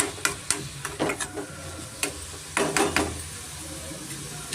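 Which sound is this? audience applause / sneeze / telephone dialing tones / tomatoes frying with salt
tomatoes frying with salt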